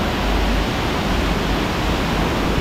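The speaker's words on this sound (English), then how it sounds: "This is such a unique waterfall." Steady, loud broadband roar of a waterfall in Indonesia, a dense continuous rush of falling water heard close up without a break.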